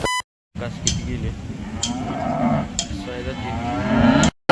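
A cow at the Sangola cattle market gives long, close, drawn-out moos amid the murmur of people talking in the market.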